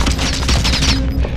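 Dense automatic gunfire from a Call of Duty: Modern Warfare match rattles loud and close in rapid overlapping bursts for over a second, a fusillade of shots with no pause.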